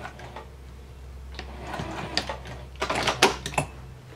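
A sewing machine runs short stitching bursts along a zipper pouch, with irregular mechanical clatter rising toward the end over a low steady hum, close and fairly quiet.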